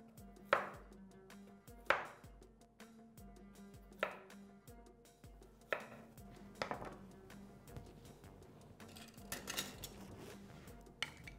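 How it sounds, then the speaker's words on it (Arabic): Carrot sliced with a knife on a cutting board in a home kitchen, sharp chopping thuds landing at uneven intervals, close and fairly quiet, with small clinks of dishes between cuts. "هجيب الجزراية بقى دي بتاعتي دي وهقطعها كده بالورق"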